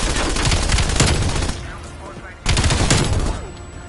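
Rapid video game gunfire bursts loudly and continuously, pauses for about a second, then resumes with another sustained burst of shots.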